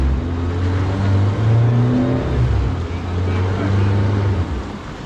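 Fishing boat engine revving loudly up close, a rising and falling throaty drone held below about 3,000 RPM, with people talking over it.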